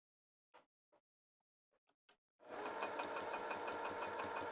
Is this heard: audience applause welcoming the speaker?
no